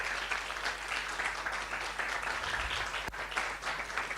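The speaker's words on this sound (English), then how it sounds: "Can you please get up and give them an applause?" An audience at a public health conference applauds guests from Bangladesh, with steady, moderately distant clapping from a crowd throughout, a single sharp knock partway through.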